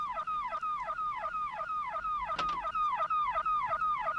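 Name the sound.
car alarm going off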